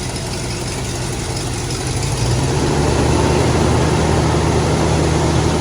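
A 1966 Oldsmobile Toronado engine idles after restoration, a loud, steady, close rumble that thickens slightly partway through and holds evenly with no talking.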